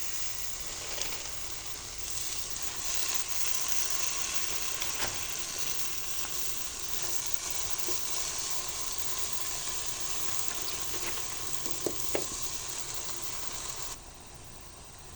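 Malabar spinach going into a pan of fried spices, fish and a little water coming to a boil, with a steady broad sizzle and bubbling throughout, a few soft clinks and stirring taps, no voices.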